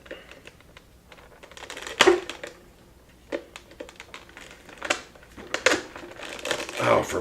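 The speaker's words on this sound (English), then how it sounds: "Let's get the zip tie and remove that." Small clicks, snaps and crinkly plastic rustles come from a zip tie being worked off a puppet mechanism, in short irregular bursts with some speech.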